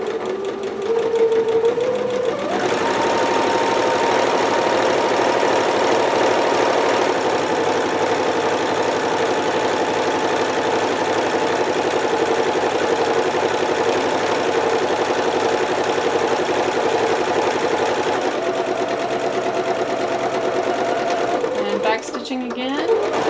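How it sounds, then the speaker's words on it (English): A home sewing machine runs a long steady seam at 5/8 inch on cotton dress fabric, with a continuous mechanical whir close up, starting and stopping at each end with a brief backstitch. "I'm just resetting my machine because I still had the basting stitch on. And I'm just going to run that through at 5/8."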